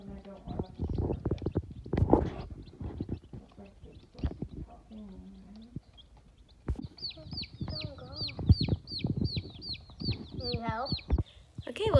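Six new bantam chicks chirp in rapid high repeated peeps alongside softer clucking trills, close and lively, while a person talks intermittently over them.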